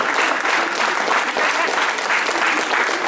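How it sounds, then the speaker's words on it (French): Applause for Sylvia Durupt at a town back-to-school forum in Les Mureaux: steady, dense clapping from a large crowd, sustained evenly for the whole stretch with no voices standing out. "Les applaudissements pour madame Sylvia Durupt."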